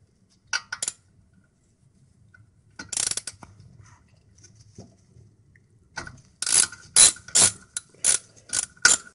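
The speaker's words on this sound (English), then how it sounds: "using a 7mm Allen key, we undo the two caliper slide bolts" A 7mm Allen key loosens the brake caliper slide bolts on an Audi A4, giving close, dry metallic clicks in short bursts. Sparse at first, they quicken into a rapid run of sharp ratcheting clicks near the end.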